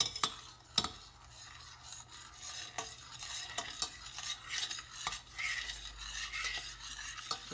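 A spoon stirs a simmering sauce for a low-carb green bean casserole in a pan on low heat, making irregular scraping strokes with a few sharp clinks against the metal over a soft background bubble.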